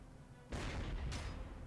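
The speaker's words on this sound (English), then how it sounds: "Anti-aircraft just shot at our tanks, I think?" Anti-aircraft guns open fire on tanks in the strategy game Panzer Corps 2, set in the conquest of Norway, with two booming blasts in quick succession over a low background rumble.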